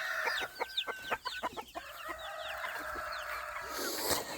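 Guinea fowl and chickens calling together on a homestead, a busy chorus of repeated sharp clucks and squawks with a rooster-like cry, close and continuous with no talking.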